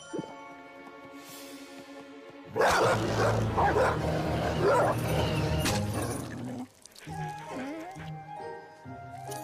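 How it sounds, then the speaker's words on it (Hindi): A cartoon two-headed dog barks and yips loudly over background music, followed by whimpering, whining sounds that trail off as the music continues. "कितना प्यारा 2 सर वाला डॉग है"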